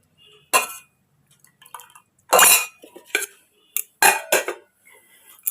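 Plates and dishes clatter as a plate is fetched in a Bengali home kitchen, with a meal of cauliflower-potato curry, fenugreek greens and red lentil dal set out. Several sharp, close clinks and clatters come in separate bursts, with no talking.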